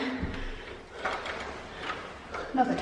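A door lock mechanism being worked open, a series of soft mechanical clicks and scraping rattles close by, fairly quiet, with faint background sound.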